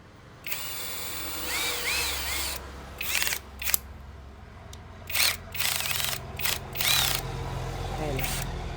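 A Keelat KCD011 impact drill runs in repeated bursts on a torque setting, whirring bright and close with short stops between spins, while someone talks over and between the runs.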